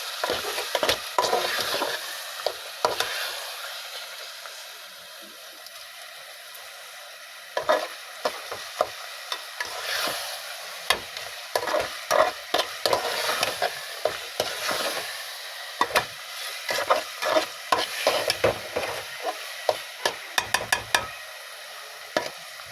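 A spoon stirs sweet, sour and spicy olive pickle in a hot pan, giving repeated close scraping strokes over a gentle sizzle. The strokes come in uneven bursts with short pauses.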